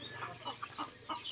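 Caged roosters give a few soft, quick clucks, faint and close together.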